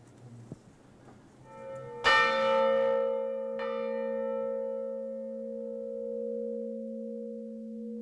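Church bells in a wooden belfry in the Hauts-de-France: a soft knock, then a loud bell strike and a second one, each leaving a long pure ringing hum that slowly fades, with no talking.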